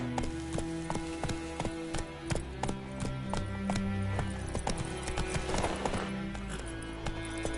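Roach the horse gallops in The Witcher video game, with a steady rhythmic clip-clop of hooves running close and loud over music throughout.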